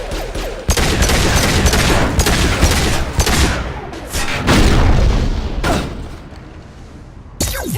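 A heavy volley of gunfire aimed at a squad: loud, close rapid bursts and booming shots crowd together in dense waves, easing briefly before a final sharp blast.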